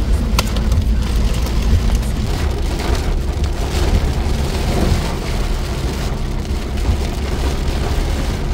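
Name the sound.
heavy rain downpour during a storm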